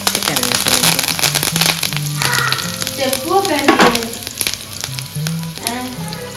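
Food sizzles and crackles in hot oil on a gas stove, a loud, dense, continuous frying hiss dotted with sharp pops, while someone talks over it and a pan or utensil is stirred.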